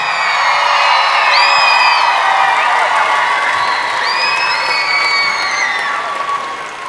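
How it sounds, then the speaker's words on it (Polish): A large festival audience at a gala concert finale applauds and cheers continuously, a dense, loud wash of clapping with whistles and shouts rising above it. "Brawa, brawa. Owacje, gwizdy, tupoty."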